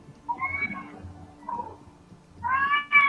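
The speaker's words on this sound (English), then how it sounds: "her cat's really loud." A cat meows loudly and close, one drawn-out call near the start, a short one mid-clip, then two strong meows at the end, with faint low background hum.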